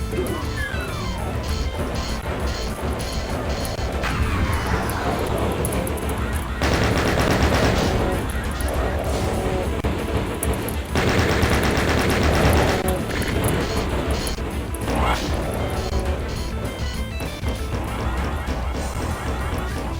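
Video game gunfire from a Doom-style shooter with a mastermind enemy rattles in rapid bursts, mixed with crashes, impacts and heavy mechanical clatter throughout, loud and dense.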